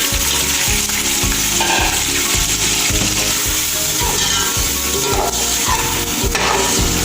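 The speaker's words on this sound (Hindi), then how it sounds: "अब ना 1 कप दही डालेंगे और मिक्स करेंगे" Yogurt being mixed into frying onions for Punjabi pulao, a loud, close sizzle with steady rhythmic stirring strokes about twice a second, no voices.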